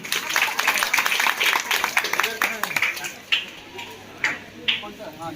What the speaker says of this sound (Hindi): एक बार साहब के लिए एक जोरदार ताली।